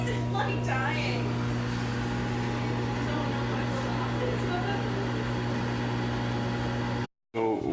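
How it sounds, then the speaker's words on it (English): A microwave oven hums steadily while defrosting frozen vegetables in water, a constant low drone that cuts out briefly near the end. "put this in the microwave for a minute"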